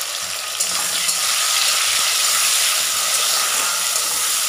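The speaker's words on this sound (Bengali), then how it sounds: "এর মধ্যে দেখো পেঁয়াজটা হালকা ভাজা ভাজা হবে" Onion and tomato frying in a pan, giving a steady, even sizzle with a soft hiss and an occasional faint stir, close and alone with no talk.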